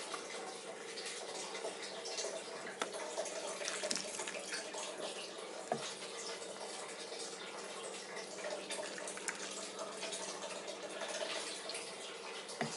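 Water pours steadily and continuously into a pot, a soft constant splashing rush with faint clinks, no talking.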